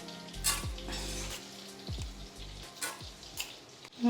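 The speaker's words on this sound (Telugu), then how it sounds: "ఇది తాలింపు వేసేసుకుంటాను." Urad dal, mustard seeds and cumin temper in hot oil, crackling and popping in several short bursts over a faint sizzle, with a few utensil clinks.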